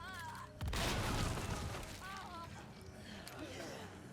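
An explosion in Resident Evil 4 Separate Ways, a sudden loud boom with rumbling debris. Game music and a voice carry on under and after the blast.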